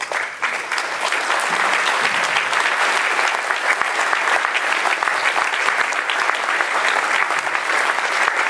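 A large audience at a Cleveland polka celebration honoring Tony Petkovsek and the Slovenian community gives a long, sustained round of applause, dense steady clapping from a hall crowd with faint background murmur.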